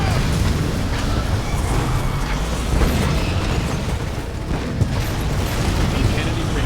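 In the Command & Conquer 3 Kane's Wrath strategy game, an energy beam cannon fires amid dense battle noise, rumbling booms and blasts layered in a continuous loud wash, with unit voice lines spoken over it.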